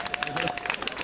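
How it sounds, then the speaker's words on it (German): A festival audience briefly applauds Kuni in a dense, steady patter of many hands, with a voice speaking over it. "Unser Kuni, können wir mal einen Applaus spenden?"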